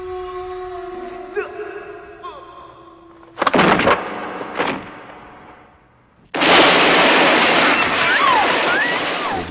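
Gunshots from a gunfight scene in a John Woo action film: a few sharp bursts at mid-clip, then a dense, loud barrage of sustained gunfire and impacts filling the final seconds.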